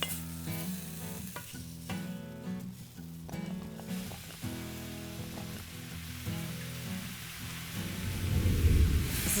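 Leeks sizzle in a hot pan with a steady frying crackle, interrupted by clattering and stirring as they are moved around. A louder rush of sizzling swells near the end.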